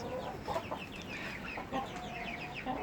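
Pekin and Silkie chickens cluck softly nearby, scattered short calls over a quiet outdoor background.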